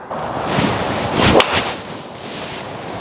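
A golf driver striking a ball: a single sharp swishing crack around the middle, bright and airy over steady outdoor wind noise, no voices.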